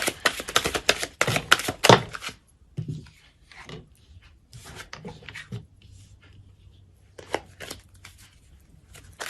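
Tarot cards being shuffled and drawn by hand: a burst of quick papery riffles and snaps early on, then scattered softer card slides and taps, fairly close and with no talking.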